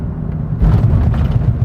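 A small Acura car passes nearby, a deep low rumble that swells suddenly and holds steady and fairly loud to the end, with no voices.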